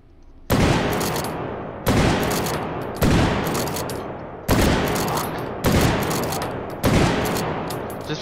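Six loud, evenly spaced gunshots from a stockless gun in the VR shooting game H3VR, each a sharp blast with a long decaying tail, fired roughly once every second and a bit.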